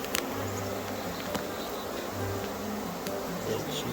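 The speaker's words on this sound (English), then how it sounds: "So we have all these extra bees inside" Bees in a five-frame nucleus beehive give off a low, steady buzz with faint clicks and rustles over it, heard close up with no voices.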